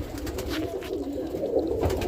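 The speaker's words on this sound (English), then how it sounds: "I got a few hens pecking around on the floor" Roller pigeon hens in a loft, soft low cooing that rolls on continuously at close range, with faint shuffling in the background.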